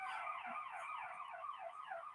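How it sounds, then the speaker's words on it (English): An emergency vehicle siren wails outside, a loud wavering electronic tone that sweeps up and down repeatedly over a quiet background with no talk. "Cool Cat saying, oh, we got the siren for today."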